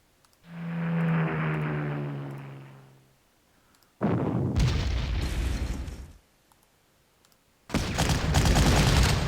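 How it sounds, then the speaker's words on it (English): Rocket artillery in the Panzer Corps strategy game fires with a rising, droning launch whoosh, followed by two loud, crackling explosion bursts separated by short silences. "More rocket artillery."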